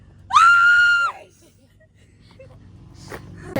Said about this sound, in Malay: Cepat jerit paling kuat.